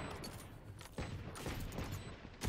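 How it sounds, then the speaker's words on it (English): Sustained gunfire sprays through a wall in a competitive Valorant esports match, a faint, continuous rattle of rapid shots in the game's mix. "Just trying to spray through the wall for the time being."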